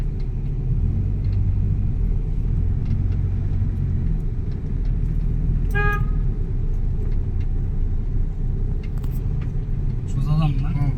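A car horn gives a short toot around the middle, near and clear above the steady rumble of a car driving along a road near a railway crossing, with people talking in the background.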